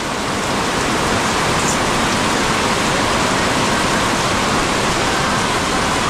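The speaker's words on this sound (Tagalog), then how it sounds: "lumakas na naman ang ulan" Heavy rain pours down in a dense, continuous hiss, loud and unbroken throughout with no voices.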